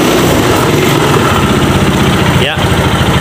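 A motorcycle engine, just started after battery servicing, runs at a steady, loud idle with a continuous chugging rumble throughout, while a voice is faintly present under it.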